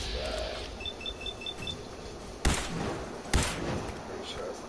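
Gunshots in Fallout 4 on PS4: two sharp, fairly loud shots about a second apart, over a low, steady game ambience with a few faint electronic beeps.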